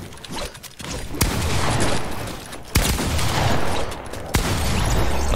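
Rapid gunfire in a Roblox shooter game, a loud continuous burst of shots with sharp louder blasts at intervals, with no talk over it.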